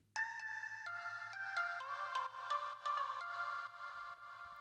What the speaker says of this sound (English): to start the build-up, we decided to put a little teaser for the main melody in here, and it sounds like this